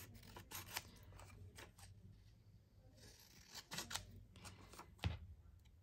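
Scissors snip through paper for an accordion trifold, a few close, crisp cuts in short bursts with quiet pauses between them.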